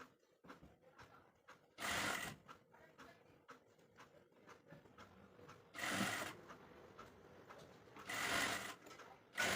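A sewing machine stitches a blouse in three loud bursts of running, with quieter handling and cloth sounds between them and no talk.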